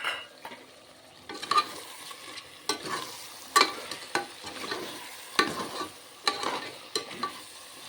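Slit green chillies go into a sizzling pan of village-style country chicken curry, which is stirred with steady frying noise and repeated scraping strokes, close and without talk.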